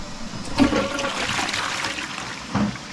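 A toilet flushes during a function test after being unclogged, a rushing swirl of water rising and then draining with a trickle, followed by another short gush.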